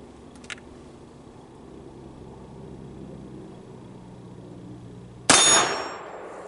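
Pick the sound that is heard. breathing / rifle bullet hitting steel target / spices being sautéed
rifle bullet hitting steel target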